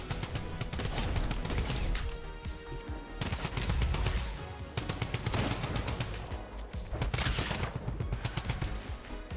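Drum gun fire in the Fortnite video game comes as rapid, loud automatic bursts, several long volleys with short pauses between them and no talking.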